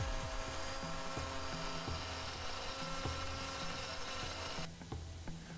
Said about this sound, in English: I flip the board over and make the cut on the other side using the same method.